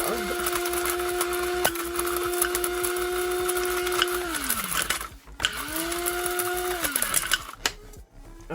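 A kitchen blender chops turmeric leaf and ginger in a high, steady motor whine that runs several seconds and winds down, then a second shorter burst spins up and slows again.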